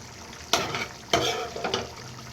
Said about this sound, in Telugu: చూడండి చికెన్ అయితే ఉడుకుతుంది కదా